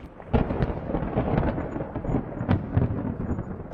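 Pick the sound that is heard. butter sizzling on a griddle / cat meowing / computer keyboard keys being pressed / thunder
thunder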